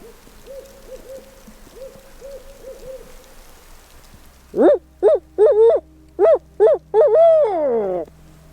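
Owls hoot during a heavy snowfall in the Midwest, first a faint, distant series of soft hoots, then a louder, nearer run of six or so clear hoots in quick succession.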